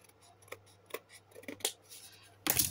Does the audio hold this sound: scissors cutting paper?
yes